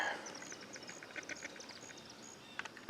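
A duck quacks outdoors in a rapid run of short calls, faint and at a distance, over a steady background hiss.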